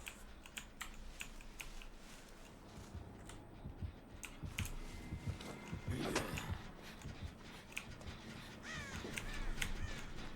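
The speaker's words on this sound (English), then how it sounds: "He heard that crow if he was paying attention" A crow caws a few times in the Dead by Daylight video game, harsh calls mixed with rapid clicky keyboard typing and faint background noise throughout.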